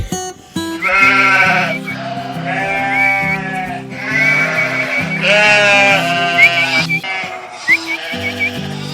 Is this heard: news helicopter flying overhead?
no